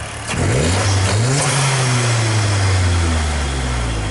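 A car engine revs hard during a test of engine movement after a Damond torque mount install, its loud, close roar climbing in pitch and then holding a sustained high rev for several seconds.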